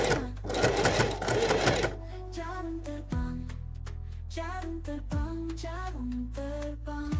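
An electric sewing machine runs in a fast whirring burst as it stitches along a line on the waistband of slack trousers. Shorter stop-start runs of stitching follow, close up, with no talk.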